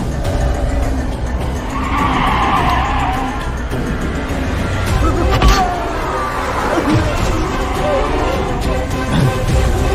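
A car's tires screech as it skids to a stop on a road, long squealing sweeps over engine noise and street bustle, with people talking amid the commotion.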